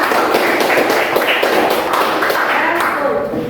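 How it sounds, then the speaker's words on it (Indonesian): A class of lower-secondary students in an Islamic religious education lesson claps hands together in a quick, steady, patterned rhythm. The clapping is close and loud and fills the whole moment, with faint voices mixed in. "Tepuk tangan."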